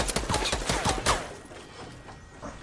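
Rapid gunshots crack in a quick burst in Fortnite Battle Royale, moderately near, then trail off into quieter scattered shots and game ambience.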